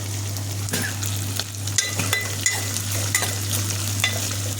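An onion, chana dal, urad dal, green chilies and curry leaves tempering in hot oil, giving a steady close sizzle and frying hiss broken by scraping stirs, with a constant low electrical hum underneath and no talk.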